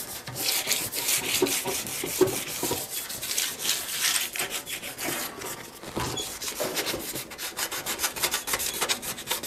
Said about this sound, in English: So I just got an old piece of scrap sandpaper here. So I'm just going to kind of scuff up where I want this to go,